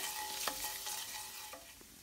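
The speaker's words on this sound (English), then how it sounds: "I'm going to give it a quick little mix before I add the shrimp" A spoon stirs salt through a hot pan before shrimp goes in for shrimp scampi, with a low sizzle and a few brief scraping knocks, quiet and without talk.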